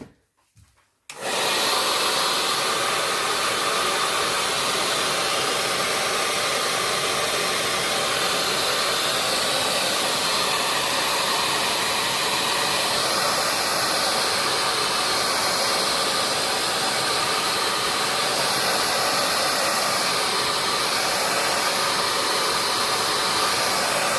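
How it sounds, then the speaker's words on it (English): A heat gun blows steadily while drying paint on a journal cover decorated with a Barbie doll, a loud, continuous airy whoosh that starts abruptly and holds for the rest of the clip. "then simply use your heat gun and dry it"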